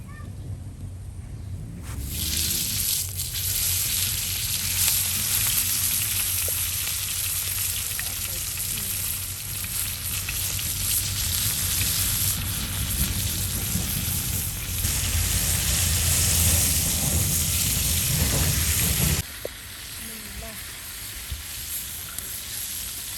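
Fish sizzles steadily in hot oil in a pan at an outdoor village cooking spot, a broad continuous frying hiss with occasional stirring, loud and close, dropping away sharply near the end.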